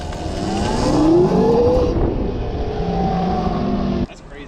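Electric dirt bike converted from a Yamaha YZ250 with a 72V kit, running at 30% throttle: a loud, steady whine that rises and falls in pitch close by, then cuts off abruptly near the end.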